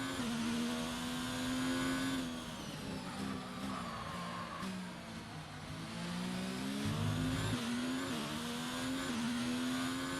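A race car engine in a racing video game at Bahrain, a loud, continuous high-pitched whine that rises and dips with gear changes, droning steadily throughout with no voices.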